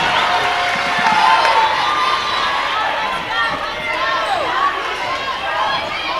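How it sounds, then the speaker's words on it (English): Home crowd at a girls high school basketball game between Liberty Hill and Glenn roars and cheers loudly in an indoor gym, sustained shouting with whoops and rising voices throughout. "the Grizzly crowd is certainly fired up now as they cut the lead down to 2 points"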